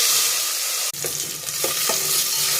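Onion, tomato and curry leaves go into oil with mustard seeds and asafoetida for okra sambar, setting off a sudden loud sizzle followed by a few spatula scrapes as everything is stirred, close and without talk.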